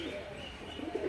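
Two newly emerged young pigeons coo faintly in a soft, low murmur over a steady background hiss, with no talk.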